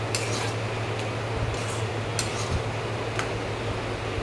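Egg is stirred in a pan for an egg tadka dish, with a metal utensil clinking and scraping at an uneven pace over a steady low background hum, no voices.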